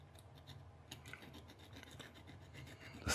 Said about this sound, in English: I'm going to try and clean it with this bit of sandpaper